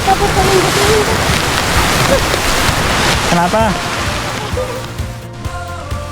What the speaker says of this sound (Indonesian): Dan tiba-tiba hujan turun teman-teman.